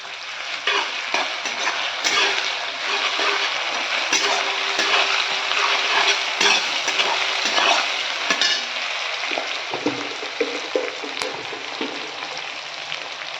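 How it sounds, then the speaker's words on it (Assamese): Onions with bay leaf and ginger-garlic paste frying in oil for mutton curry: a continuous close sizzle broken by spoon-stirring scrapes and light clinks against the pot. "পিঁয়াজখিনি অকণমান ভাজি লোৱাৰ পিছত মই আদা নহৰু পেষ্টখিনি দি দিলোঁ"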